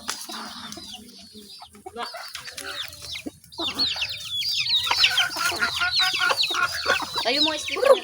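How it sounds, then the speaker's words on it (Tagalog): Chickens cluck and chatter in a busy flock, faint and sparse at first, then louder and denser with overlapping calls nearby. "Manok."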